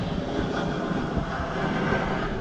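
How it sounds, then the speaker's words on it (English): A steady, broad engine roar of a plane passing overhead, continuous and fairly loud throughout with no voices. "I didn't anticipate a plane flying overhead"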